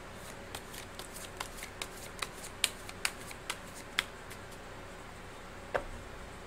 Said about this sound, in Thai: เดี๋ยวจะมาดูเปิดไพ่เพิ่มเติมให้ของชาวลัคนาราศี พิจิกนะขอสัก3ใบก็พอ